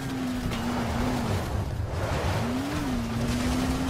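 Steady engine hum of a car driven in the video game Dying Light, with a droning motor tone that dips and returns under continuous road and wind noise, no talking.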